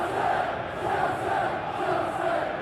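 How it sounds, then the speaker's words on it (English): Stadium crowd in the eFootball 2021 football game, a Chelsea vs Manchester City match, a continuous swelling murmur and roar from many spectators, loud and sustained with no distinct voices. "Crowd appreciates good football all round there."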